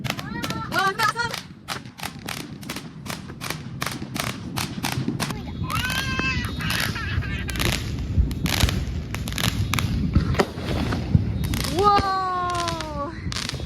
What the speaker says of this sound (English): People are like doing fireworks, and look right here, people are gonna do it right now.